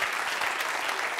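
A comedy club audience claps in a dense, loud burst, many hands together in a continuous crowd applause that fills the whole moment.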